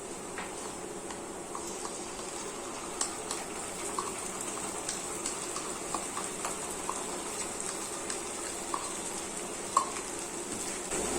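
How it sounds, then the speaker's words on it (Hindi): Ginger garlic paste frying with onions in a pan, a continuous close sizzle with scattered crackles and occasional clicks of stirring. "इसको भी प्याज के साथ अच्छे से फ्राई करेंगे"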